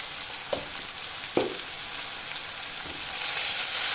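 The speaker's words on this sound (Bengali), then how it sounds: "এবার ওই তেলে কাঁচা লঙ্কা ও আলু কুচিগুলি দিয়ে দিলাম" Green chillies and chopped potatoes frying in hot oil give a continuous close sizzle, broken by a few soft scrapes from stirring the pan. No one speaks.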